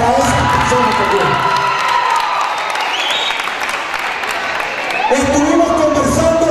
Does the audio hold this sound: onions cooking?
no